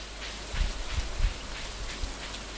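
Steady rain falls in the Stardew Valley video game, a soft continuous hiss with faint low thumps repeating every half second or so, fairly quiet and even throughout.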